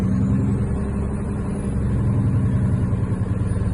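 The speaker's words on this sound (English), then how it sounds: "I'm gonna rev it up." A truck engine held at raised RPM during a CDL air brake test, a loud, steady low rumble with a slight throb that continues without a break or voices.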